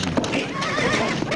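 A horse whinnies loudly and close by, a shaky drawn-out neigh amid scuffling and stamping hooves.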